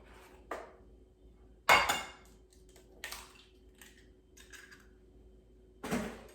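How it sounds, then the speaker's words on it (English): An egg is cracked against a bowl for breaded chicken, a few sharp clicks and knocks of shell on the rim, close and quiet with pauses between, alone in a still kitchen. "So let's crack the egg in a bowl."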